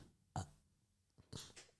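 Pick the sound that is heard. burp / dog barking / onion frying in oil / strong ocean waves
burp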